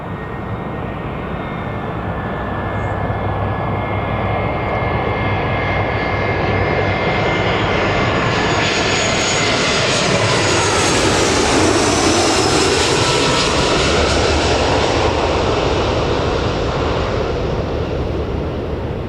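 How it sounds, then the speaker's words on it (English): A Eurowings Airbus A320 jet airliner passes at an airport, a loud sustained engine roar that swells as it nears and then holds steady, with no voices. "Here's the Eurowings now. And it's an Airbus A320."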